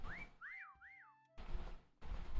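Several rising and falling whistle tones from the Meccha Chameleon hide-and-seek video game, three quick swooping whistles close together, followed by bursts of noisy in-game sound.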